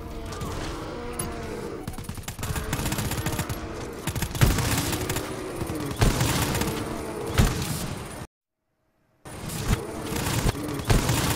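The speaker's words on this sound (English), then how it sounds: "I just shot that dude in his head like four times" Sustained gunfire in the shooter game DodgeBullet, dense volleys of rapid shots and crashing impacts, loud and continuous apart from one brief silent gap near the end.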